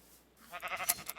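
A Minecraft sheep gives a short, fairly faint bleat lasting about a second, heard alone.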